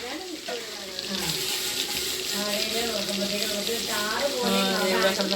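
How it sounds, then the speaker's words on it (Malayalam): Fish frying in oil, a continuous hissing sizzle that grows slightly louder toward the end, with a voice talking over it. "ആ അതേ നോക്കി നല്ല എണ്ണയിൽ കിടന്ന് ഫ്രൈ ആയിക്കൊണ്ടിരിക്കുക"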